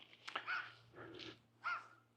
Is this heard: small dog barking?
yes